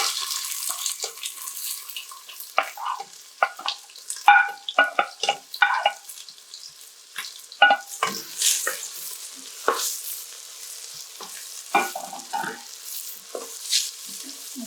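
Chopped onions frying in a hot pan with bay leaves for urad dal give a steady, bright sizzle, broken by irregular scraping and stirring clicks, moderately loud and close, with no talk.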